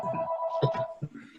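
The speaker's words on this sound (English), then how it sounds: "somebody answer their phone." A telephone rings with a steady electronic tone during an online meeting, the ringing sustained through the whole moment while a few faint voice sounds break in around it.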